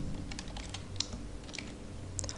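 Quick, light keystrokes clatter on a computer keyboard while entering an attribute name in GeneXus software, a steady run of soft clicks at close range with a few sharper taps.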